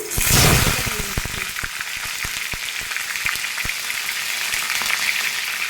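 Whole cumin seeds, dried red chillies and two bay leaves hit hot oil with a loud opening burst of sizzle, settling into a steady close crackle and spitting that carries on alone to the end.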